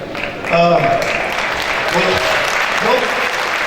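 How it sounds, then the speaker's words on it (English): Audience applause fills a school gymnasium during a basketball memorabilia round table and auction, steady clapping throughout with voices talking over it. "Don't clap so much yet."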